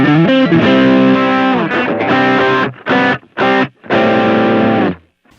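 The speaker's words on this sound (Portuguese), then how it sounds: "aumentei o drive e aumentei um pouquinho de agudo para chegar nesse som" An electric guitar with the drive turned up and a touch of extra treble gives a bright, overdriven worship tone: loud, sustained chords ring out, then a few short choppy stabs and a final held chord that cuts off.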